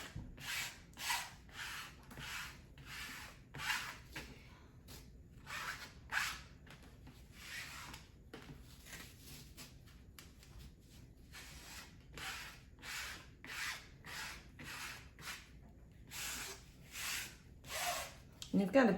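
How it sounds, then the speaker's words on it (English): A plastic card rubbed repeatedly across cross stitch fabric, a series of soft scraping strokes in a steady rhythm, close and quiet, with light breathing between passes. "I'm going to use this AAA card to gently smooth out the fabric"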